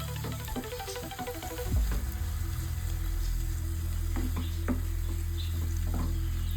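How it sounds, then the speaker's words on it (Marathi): Onions frying in a pan for a dried ribbon fish curry, a steady sizzle that swells after a stir and keeps up a constant crackle with faint clicks. "कांदा लाल होईपर्यंत परतवून घ्या"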